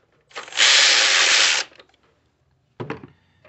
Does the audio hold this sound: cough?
no